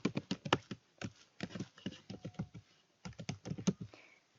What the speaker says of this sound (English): Type in your username of AOL.